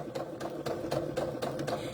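A sewing machine stitches a fabric mug cozy with a steady, continuous mechanical whir, close and fairly even, with faint rhythmic needle ticks through the run and no talking.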